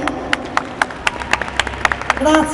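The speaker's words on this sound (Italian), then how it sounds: "Ok, applaudite, non lo facciamo nervosire." Audience at a cabaret show clapping in a slow, regular beat, with individual claps standing out sharply over a murmuring room and a swell of noise at the end.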